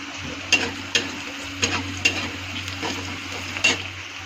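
Kalonji seeds and a pinch of turmeric frying in oil in a pan, with a steady sizzle and several sharp clacks of a spatula stirring against the pan, close and moderately loud, no voices.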